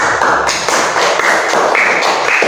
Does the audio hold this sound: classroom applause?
yes